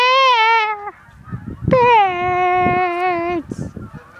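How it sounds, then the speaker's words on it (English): Geese honk loudly and close by, two long, strongly voiced calls with clear harmonics, the second held for nearly two seconds, over a background of rustling and shuffling. "It's birds, and they're landing over there."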